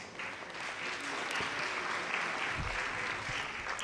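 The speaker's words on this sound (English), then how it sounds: "A round of applause for them" An audience at the Fajrul Islam Centre Jalsa claps for two students who recite a poem on stage, a soft, fairly faint patter of applause that runs steadily throughout.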